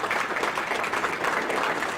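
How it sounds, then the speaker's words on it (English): Guests at a high school football banquet give the Booster Club a short round of applause, a thick, steady burst of many hands clapping at moderate volume. "Have a nice round of applause to the Booster Club."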